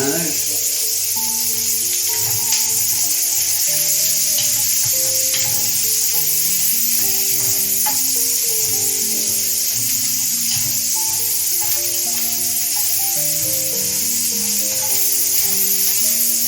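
Paella valenciana ingredients browning in a pan, a loud, constant hissing sizzle at close range with a steady musical melody playing over it.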